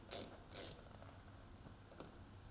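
A ratcheting torque tool tightens pod mounting screws on a Polaris Xpedition XP/ADV roof, two short bursts of mechanical clicking close together, then a faint tick near the end, fairly quiet overall.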